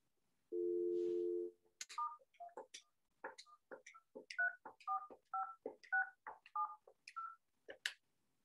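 IP desk phone keypad pressed button by button, a steady tone at first followed by a quick run of distinct dual-tone dialing beeps, clear and close with no voices.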